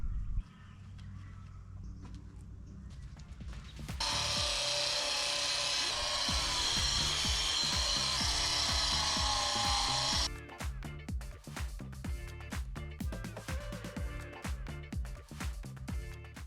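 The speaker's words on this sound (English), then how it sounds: "I'm just gonna go through the whole process of grinding off the rust" An angle grinder grinding rust off the corner castings of a steel shipping container roof, starting after a few seconds as a loud continuous whine, then cutting off into rapid clanking and scraping taps.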